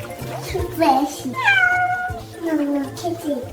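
A kitten meows several times in rising and falling drawn-out cries, close and fairly loud over a steady low hum, with a baby's vocal sounds mixed in.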